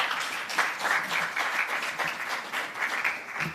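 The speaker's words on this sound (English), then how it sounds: "Give them a round of applause, please." Applause from the audience at an EU financing agreement visibility ceremony, a dense, steady wash of many hands clapping that carries evenly through the whole stretch at moderate loudness.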